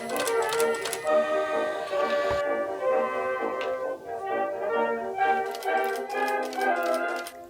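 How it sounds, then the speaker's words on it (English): A sewing machine runs steadily while edge stitching, its rapid mechanical ticking and whirring continuing close and fairly loud without voices, with a brief pause in the middle before it picks up again. "how much I love the foot on this sewing machine, because it's just so easy to line up for edge stitching"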